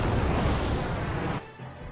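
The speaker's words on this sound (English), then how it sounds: "That explosion is pretty" An explosion in the video game Final Fantasy 12, a loud, broad rumbling blast that sustains and then cuts off sharply near the end, leaving a fainter tail.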